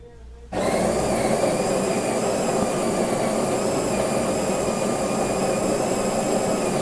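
A Jura coffee machine runs steadily while brewing a cup, a loud continuous motor-and-pump hum that starts abruptly after a brief quiet moment and holds evenly to the end.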